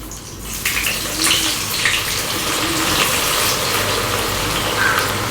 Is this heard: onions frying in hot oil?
yes